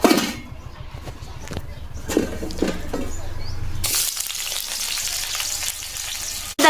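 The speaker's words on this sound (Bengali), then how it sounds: "দেখো ঢেঁড়স ভাজাটা আমার হচ্ছে" Okra fries in hot oil in a wok with a steady, close sizzle that swells into a louder, denser hiss partway through and holds until the end.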